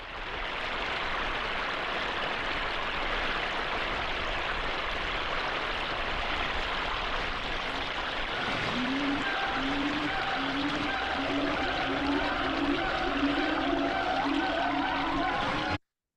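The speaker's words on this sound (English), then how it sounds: "I ask for a waterfall in Thailand," A waterfall in Thailand rushes as a steady, continuous broadband roar for the whole stretch, with a faint repeating tonal pattern emerging in the second half, no talk over it.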